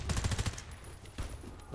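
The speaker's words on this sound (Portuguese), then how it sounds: "eu tomei tiro de quê?" Rapid automatic gunfire in the shooter game Warface, a quick burst of closely spaced shots at the start followed by a lone later shot, fairly faint.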